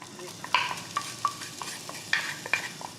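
Minced onion fries in oil in a pan, a steady close sizzle broken by sharp scrapes and clinks of a utensil stirring against the pan at irregular intervals.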